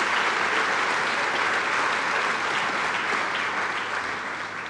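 An audience applauds BMW at the launch of the BMW X3 at the Rosslyn Plant, with thick continuous clapping filling the hall and tapering a little at the close.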